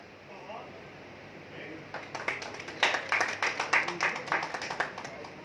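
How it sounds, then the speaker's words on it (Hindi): Audience claps to welcome a guest onto the stage at a film launch ceremony; after a quieter stretch of murmur, a burst of many hands rises loudly and rapidly for a few seconds, then tapers slightly. "जोरदार ताली बजा के स्वागत कीजिए"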